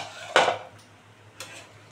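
Pot lid lifted off boiling Bengali fish curry: a clanking metal knock followed by a fainter second clink, close, over a low steady background hum with no talk.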